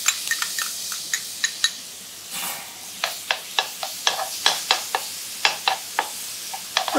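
Plums marinated in white wine and cinnamon sizzling and popping in a frying pan, a steady close hiss broken by frequent sharp crackles.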